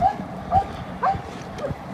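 A farm dog whimpers and yips in several short, high, close cries spaced about half a second apart, with quiet outdoor background between them.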